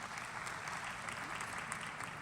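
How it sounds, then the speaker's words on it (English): Applause fills the hall at a College of Medicine and Life Sciences commencement ceremony, a steady, dense wash of many hands clapping at moderate distance with no speech over it. "please hold your applause."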